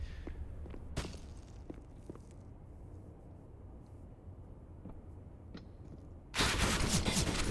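Gunfire in Counter-Strike: Global Offensive during a professional esports match, with sharp shots and footsteps at moderate distance, followed by a loud, sustained burst of fire near the end.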